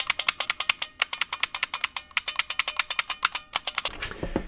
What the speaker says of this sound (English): And here, I got a beam spring keyboard.